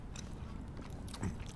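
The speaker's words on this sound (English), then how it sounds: "I want you guys to hear how crispy the crust is on the bottom" Someone bites and chews a slice of pizza with a crispy bottom crust outdoors in a small city park, giving soft close crunching against steady outdoor background noise.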